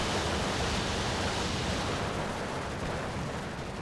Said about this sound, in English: Oh, napalm into the forest.